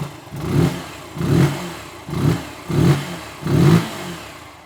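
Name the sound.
new 125cc motorcycle engine revving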